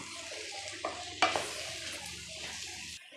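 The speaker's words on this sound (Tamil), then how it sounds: "ஒரு ரெண்டு நிமிஷம் அப்படியே திருப்பி திருப்பி வதக்கி விட்டுறலாம்" Vegetables for a vegetable gravy sizzle steadily in a hot pan while a utensil stirs and scrapes, with a couple of sharper clanks partway through.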